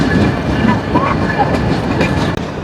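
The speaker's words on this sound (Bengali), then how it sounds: "ডাবল 613 সিরিজের লোকোমোটিভ নিয়ে প্রবেশ করলো জাহানাবাদ এক্সপ্রেস।" The red-and-green Jahanabad Express rolls into a station behind a pair of 613-series locomotives, a loud continuous rumble of carriages and wheels with rhythmic clatter on the rails.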